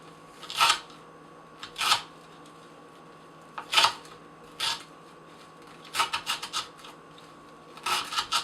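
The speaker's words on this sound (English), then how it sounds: "Kind of having to give it a sawing action now" Kershaw Skyline knife with a worn 14C28N steel edge sawing through rope, in short rasping bursts of back-and-forth strokes separated by pauses, close and crisp over a quiet background hum.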